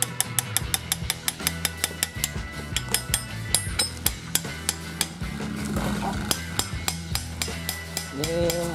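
Wheel lug bolts being swapped on an off-road vehicle, a broken bolt replaced: a steady run of sharp metallic ratcheting clicks and clanks from a wrench up close, with a brief whirring tool burst near the end.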